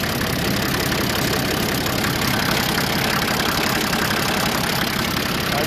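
A 1961 Case 930 diesel tractor engine running steadily nearby, a loud continuous idle with a rough, knocking diesel chatter and no pauses.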